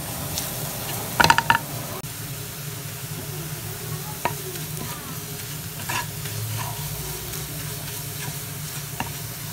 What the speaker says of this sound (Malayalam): ഇനി ഇതിൻ്റെ പച്ചമണം നന്നായിട്ട് പോകുന്നവരെ നമുക്ക് വഴറ്റിയിടാം